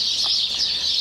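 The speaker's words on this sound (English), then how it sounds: "It's not the best having chickens in the pen that you're working in." Chickens in a garden pen among fruit trees, with a steady high chirping and clucking texture running throughout, fairly close and continuous.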